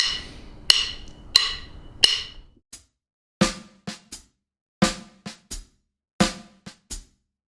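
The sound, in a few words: R&B drum groove with backbeat and ghosted snare notes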